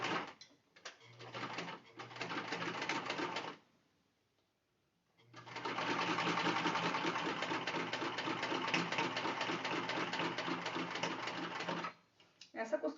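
A sewing machine stitches a pocket on a fabric car trash bag in bursts: a short run, a pause, then a long steady whirring run, with a brief restart at the end.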